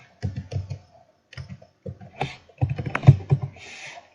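Keystrokes on a computer keyboard while a captcha is typed, coming in short bursts of quick clicks separated by brief pauses, close and clear with no talking.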